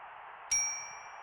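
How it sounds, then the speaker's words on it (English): One bright, high-pitched bell ding in the Syberia adventure game, a sharp strike that rings and fades over less than a second above a steady background hiss, with no talking. "That was a high-pitched bell for no reason."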